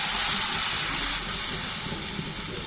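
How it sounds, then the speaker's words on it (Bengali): Covered pan of rice-flour batter for chitoi pitha steaming over heat, with water sprinkled around it: a steady close hiss of steam and faint sizzle, louder at first and then settling slightly, no voices. "দিয়ে একটা ঢাকনা দিয়ে ঢেকে দেব, আর চারপাশটাতে একটু জল ছিটিয়ে দেব।"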